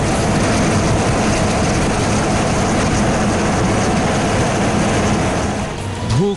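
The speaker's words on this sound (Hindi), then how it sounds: "वायुसेना के हेलीकॉप्टर लगातार बाढ़ पीड़ितों को बचाने में लगे हुए हैं।" An Air Force rescue helicopter flies over flooded Ernakulam, Kerala, its steady loud rotor and engine drone filling the air throughout without pause, with no voices.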